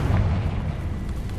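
A Confringo fire spell blasts in the Hogwarts Legacy video game, a short, heavy low boom with a rumbling tail, loud and alone.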